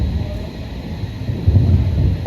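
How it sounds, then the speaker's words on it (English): Thunder rumbles low and fairly close during a thunderstorm, heard while riding a cable car up a mountain near Kufstein, Austria, swelling in a deeper roll partway through over a steady windy background. "Oh, there's the thunder."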